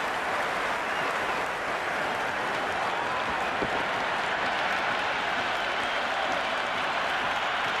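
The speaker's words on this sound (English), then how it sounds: "There's a buzz, a real buzz coming from the stands." Cricket crowd cheering and applauding in the stands at an Afghanistan vs Zimbabwe match after a six, a steady dense roar of clapping and voices filling the whole stretch without a break.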